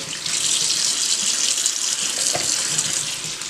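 A kitchen tap runs steadily while raw chicken gizzards and liver are rinsed in a bowl, making a constant near splash of flowing water with small shifts as the pieces are handled.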